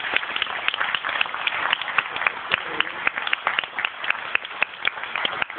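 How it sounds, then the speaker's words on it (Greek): Audience applause at a conference, many hands clapping in a dense steady patter that fills the hall, loud and continuous throughout. "Θα ήθελα να χειροκροτήσετε για την Κατερίνα."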